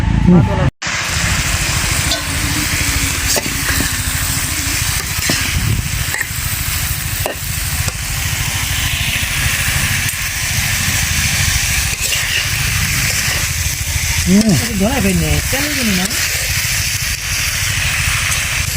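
Vegetables stir-fry in a home kitchen pan, with a steady sizzle and hiss running throughout and occasional scraping stirs, while people talk over it and a voice rises briefly.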